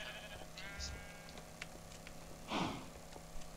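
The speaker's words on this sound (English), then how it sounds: "I just found a bunch of sheep as well" Sheep in a video game let out a short bleat over a constant game soundscape with faint ticking, followed by a couple of soft clicks.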